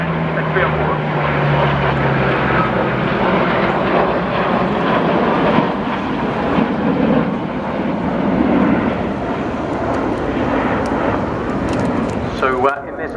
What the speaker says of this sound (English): These are the Austrian Typhoons